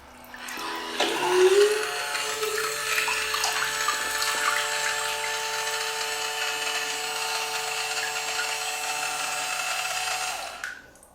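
A 2024 Zuru Robo Alive Great White Shark toy swims in water, its motor giving a steady mid-pitched whine with light water churning that runs for about ten seconds before cutting off.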